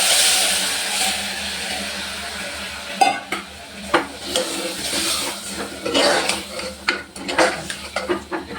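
Thick tamarind extract is poured into a pot of Iyer-style sambar, with a soft pour and stirring scrapes, then clinks and splashes against the pot at close range.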